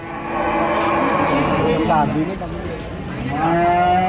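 A Limousin cow at the Sragen livestock market lets out loud, drawn-out moos close by, two calls rising and falling over the busy murmur of the market crowd, with people talking.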